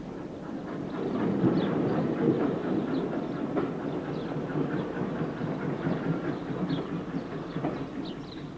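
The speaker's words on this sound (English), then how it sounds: "And here's the train having returned." An old British train of 4- and 6-wheel carriages rolls past steadily with a low rumbling and faint rhythmic clicking of wheels over rail joints, continuous and moderately close.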